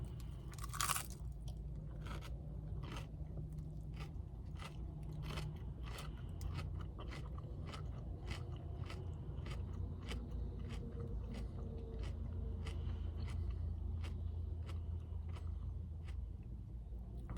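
Lettuce being chewed close to the microphone, with a long series of regular crisp crunches about every half second, faint and dry against a low hum.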